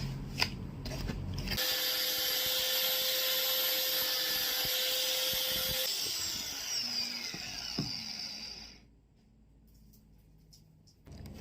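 A drill bores into a spray paint can: a loud, steady mechanical whir with a thin high whine runs for several seconds, then winds down and fades to near silence.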